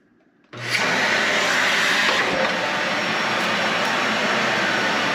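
A Dyson Ball Animal 3 upright vacuum cleaner switches on abruptly and runs on a living room carpet with a loud, steady, whooshing roar that holds constant close by.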